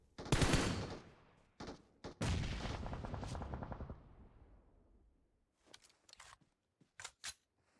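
Gunfire in the PUBG Mobile video game, with a loud burst of automatic fire followed by scattered single shots, then quieter sharp cracks near the end.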